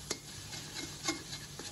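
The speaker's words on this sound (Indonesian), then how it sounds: "Kita campur semua ini yang ada di wajan ini" Garlic and chili paste are stirred in a wok, a utensil scraping and tapping against the metal in a few light, irregular strokes over a faint sizzle, close and quiet with no talking.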